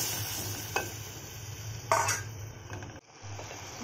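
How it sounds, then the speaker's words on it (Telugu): Raw coconut milk goes into a garlic curry frying in a pan. A steady soft sizzle and hum carries a few brief scraping clinks of a spoon, then the frying noise dips briefly before resuming. "ఇప్పుడు పచ్చి కొబ్బరి పాలు వేస్తున్నానండి"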